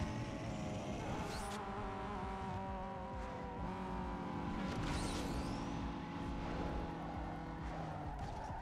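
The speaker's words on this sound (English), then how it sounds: "this Miata gets fucking everywhere really fast" A Mazda Miata races in Need for Speed Underground 2, with a continuous engine roar, shifting tones and sharp tire squeals now and then, all game audio and no talk.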